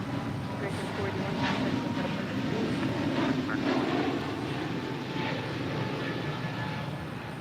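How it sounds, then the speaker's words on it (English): An American Airlines Airbus A321neo airliner takes off at LAX, its jet engines producing a loud, steady broadband roar that holds throughout, with faint talk in the background. "This is American Airlines 481 departing to Philly on the A321neo."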